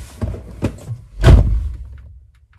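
Door locks on a Honda Element actuated by an aftermarket key fob: a few soft, dull thunks, the last one the heaviest, close by with no talking.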